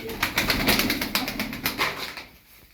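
Pigeons coo in a soft, repeated rhythm, close by, with faint rustling and wing movement underneath and no talking.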